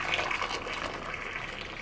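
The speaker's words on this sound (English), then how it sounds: "we're going to pour said boiling water over top of the eggs" Boiling water poured from a kettle over eggs sitting in a small bowl, a steady splashing gush of liquid that runs unbroken and fairly loud from start to finish, with no voices.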